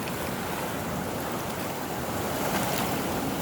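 The Napo River in the Amazon flows in a constant broad rush of water, loud and close, blended with wind noise on the microphone and no voices.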